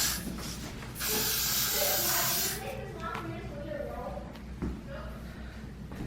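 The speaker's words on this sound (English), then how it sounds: "We're gonna hairspray it quite a bit with this Got to Be Glued freeze spray." A close can of Got2b Glued freeze hairspray lets out a sustained hissing spray for about two seconds, followed by quieter handling sounds and faint talking.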